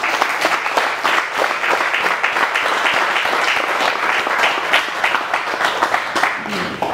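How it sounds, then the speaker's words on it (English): A roomful of people claps enthusiastically, a loud, even burst of applause sustained throughout, close and dense. "a big round of applause for this entire gang."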